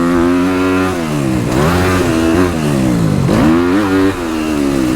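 Dirt bike engine on a motocross track, loud and close, revving through rising and falling pitch sweeps as the rider shifts gears, a continuous buzzing two-stroke style whine with no talk over it.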